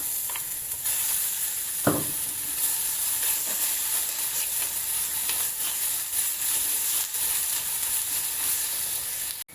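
Ginger fries in a pan on a low flame with a continuous soft sizzle and hiss. An occasional scrape or knock of a stirring spoon rises over it, nearby and even throughout.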